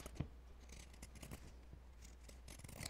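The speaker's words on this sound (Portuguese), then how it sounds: "Eu vou recortar com a tesoura de picotar" Pinking shears snip fabric with a seam allowance around a sewn doll face. The cuts come as faint, close, crisp crunching snips, with one sharper snap near the start and lighter rubbing after it. The room is otherwise quiet and nobody talks.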